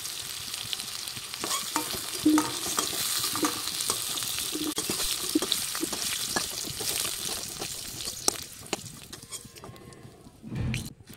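Potatoes fry in oil during village-style rooftop cooking, a loud continuous sizzle broken by frequent scraping and stirring clatter close by, easing off near the end.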